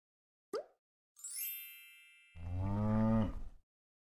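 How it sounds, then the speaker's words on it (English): Cartoon-style cow moo from a preschool animal sorting game, one drawn-out low moo following a short pop and a bright chime, clear and alone. "Cow."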